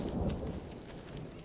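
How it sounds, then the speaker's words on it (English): Thunder rolls in the jungle survival game Green Hell, a low, dull rumble swelling briefly and fading, with rain-like hiss above it and no talk. "Is that thunder?"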